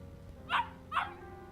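A dog in the video game Yakuza Kiwami barks twice, two short evenly spaced yelps over a steady game ambience hum.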